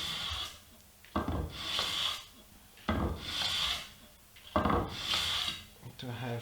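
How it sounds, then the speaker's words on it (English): A flat metal vise cover is sanded with recycled sandpaper in long rhythmic back-and-forth strokes, four loud rasping sweeps with brief gaps, close and alone. "I'm gonna be using a recycled sandpaper"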